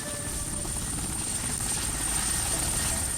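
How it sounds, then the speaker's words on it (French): A Super Puma heavy-lift helicopter, a 5-tonne machine, flies close by with a loud, steady rotor and turbine roar that holds constant throughout, with no talking. "Un Super Puma de 5 tonnes, l'un des modèles d'hélicoptères les plus puissants jamais conçus."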